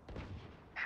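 Gunfire rattles in the tactical shooter game Valorant, a short, muffled burst of shots sounding at a distance, with a brighter sharper crack at the very end.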